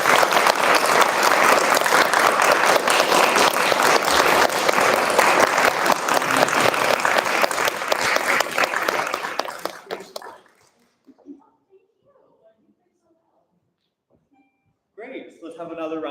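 Loud, dense audience applause after a student-led music masterclass at MSU, sustained for about ten seconds before fading out, with brief voices following in the quiet.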